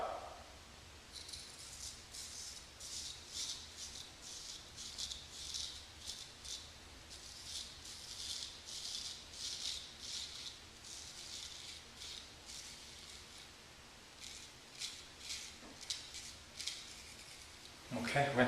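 A straight razor scrapes along the skin from the chin downward in a run of short, faint rasping strokes, close up and rhythmic over a quiet background, with no voices.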